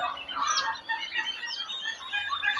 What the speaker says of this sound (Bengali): এই যে আমাদের এখানে আছে দশ থেকে বারো দিন বয়সী দুশো প্লাস টার্গি মুরুগের বাচ্চা